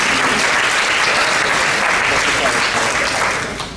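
Dense, loud applause fills a room at an interfaith peace potluck gathering, steady and sustained before easing off in the last moments.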